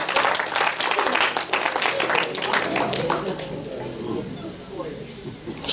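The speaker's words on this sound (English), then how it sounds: "Clap your hands for Jesus Christ." A congregation at a church sermon claps hands in a dense burst that overlaps with voices and gradually thins out over several seconds.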